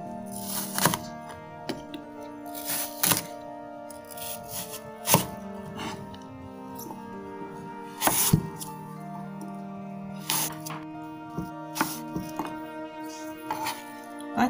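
A knife dices green and red apples into small cubes on a cutting board, giving crisp, irregular chops and thunks at close range, some in quick bursts and others spaced apart.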